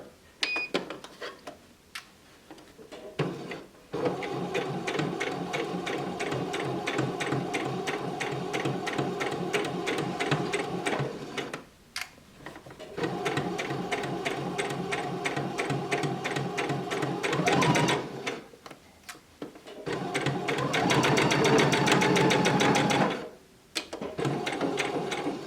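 A sewing machine stitches a seam on a fabric pouch in rapid, rattling bursts of several seconds each, broken by short pauses, close and fairly loud.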